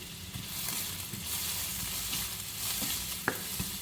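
Onions and curry leaves fry in hot oil, giving a soft, steady sizzle with light crackles and one sharp pop near the end.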